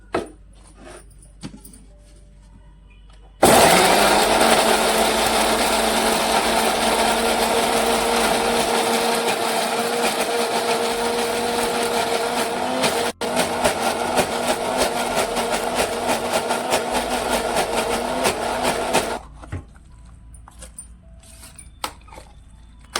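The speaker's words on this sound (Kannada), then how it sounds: "ಈಗ ಇದನ್ನೆಲ್ಲ ಮಿಕ್ಸರ್ ಹಾಕಿಬಿಡೋಣ್ರಿ." A mixer grinder grinding tomato chutney ingredients runs loud and steady for about fifteen seconds with a brief pause partway, then cuts off, leaving quiet handling sounds.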